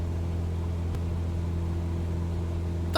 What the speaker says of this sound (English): The noise we've got with the wind noise you can hear inside I like.